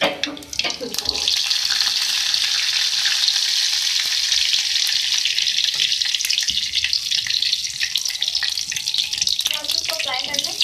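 Cumin and carom seeds fry hard in two tablespoons of oil for a tempering, a loud, steady close-up sizzle that runs unbroken and dense throughout, with no talk over it.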